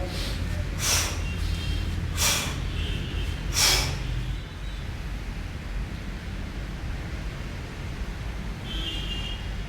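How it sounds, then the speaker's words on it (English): A person breathes in and out deeply during a kettlebell swing workout: three close, airy breaths in the first four seconds, then only a quiet room hiss. "Take a deep breath and out."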